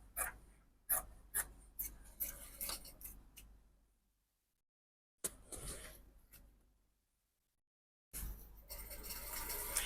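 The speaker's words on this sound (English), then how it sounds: "I just lift it up a bit so that you can cut off this shape" Scissors cut fabric for a cowl Bubu dress in a quiet room, giving a string of faint crisp snips and rustles, then short bursts of cutting separated by silent pauses.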